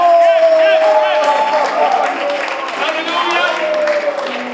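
A church congregation cheers and applauds in acclamation of the name of Jesus, a loud sustained crowd roar with clapping that carries under a speaking voice throughout.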